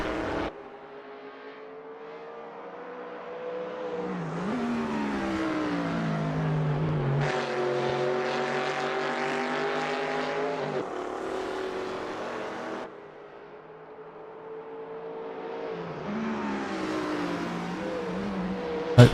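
Group C touring car engines in Assetto Corsa roar at speed, pitch rising and falling through gear changes and revving as the cars race, steady and fairly loud throughout.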